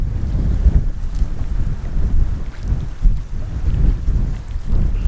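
Strong wind buffets a fishing boat out on open water, a loud, gusty roar with low thumps that swell and fade, with no voices.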